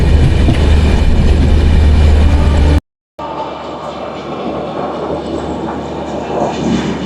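The 13047 Vibhuti Express, an LHB-coach train running from Howrah to Varanasi, rumbles along at speed. A loud, steady roar with rattling wheels drops out briefly near the middle, then returns as a slightly softer, continuous clatter.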